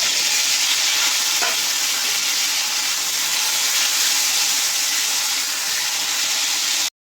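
Taro pieces fry in mustard oil in a wok, a loud steady sizzle holding without a break for about seven seconds before cutting off abruptly, close and with no voices.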